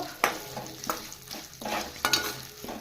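Garlic rice with chili powder sizzles in a pan while a spoon stirs it in rhythmic scraping strokes, close and fairly loud, about five strokes over a steady frying hiss.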